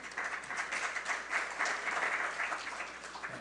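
An audience at a forum on Korean Peninsula peace claps for Dr. Morton Halperin, a fairly soft, steady round of applause in a hall, with no talk over it.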